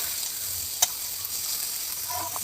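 Fish oil curry sizzles in a pan with a steady, close frying hiss, broken by one sharp spatula scrape and a few faint stirring sounds.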